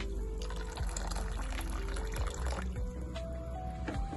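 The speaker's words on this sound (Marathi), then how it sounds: "आपण याच्यावरती गरम उकळलेलं पाणी टाकलेलं आहे" Hot boiled water pours steadily from a vessel over washed sago in a bowl, a continuous close splashing trickle with a faint rising fill tone and no voices.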